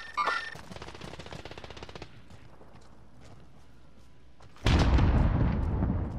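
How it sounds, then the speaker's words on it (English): Video game gunfire: a rapid burst of shots up front and a quieter rattle, then a sudden loud sustained roar of fire late on, with snipers engaging in the fight. "Whoa, they're sniping."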